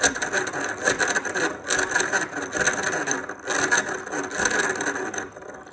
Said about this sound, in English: So all that noise is coming from the gear mesh.